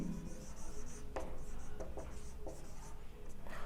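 Pen writing on paper while solving a differential calculus problem, a steady close scratching with a few sharper strokes throughout, faint room noise beneath.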